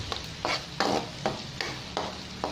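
Onions frying in a pan for a kangkong tofu dish with oyster sauce, stirred in sharp scraping strokes roughly every half second over a steady sizzle, close and moderately loud, with no talking.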